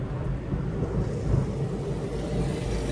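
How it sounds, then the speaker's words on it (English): A dump truck rolls past on a road, its heavy diesel rumble steady and close for several seconds with low-frequency drone and broadband road noise. "Whoa, dump truck."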